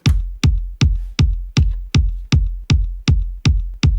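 Soca kick drum from a song, played solo as a steady four-on-the-floor pattern of about eleven loud, punchy, booming hits with short decays, evenly spaced with nothing else around them.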